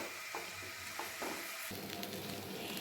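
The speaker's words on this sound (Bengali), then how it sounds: "এভাবেই চালগুলোকে ভেজে নিতে হবে" Rice grains tossed with spices in a pan for prawn pulao, giving a steady soft sizzle with a few light scraping stirs partway through.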